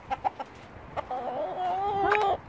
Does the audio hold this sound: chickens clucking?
yes